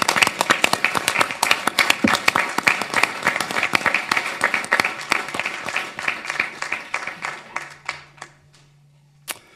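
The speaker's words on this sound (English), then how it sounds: "Can we give you a round of applause?" Audience applause at a city council meeting, a room of people clapping loudly with distinct individual claps that thin out and taper off toward the end, followed by a low hum and one last clap.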